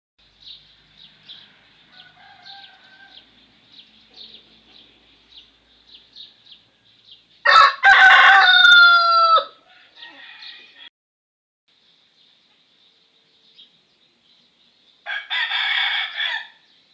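Chickens on a Thai farm with mulberry and lime trees: a rooster crows loudly and close, with scattered clucking and chirps around it and another burst of fowl calls later, while someone talks quietly at times.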